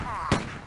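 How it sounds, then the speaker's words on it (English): A single gunshot rings out in the Stubbs the Zombie video game: one sharp, loud burst over steady game background noise, fading quickly into ambience. "Gunshots."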